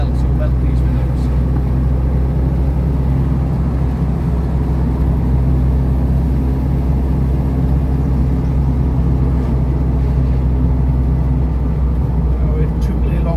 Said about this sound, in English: We're tootling along now in 5th gear at about 40 mile an hour and under gentle acceleration.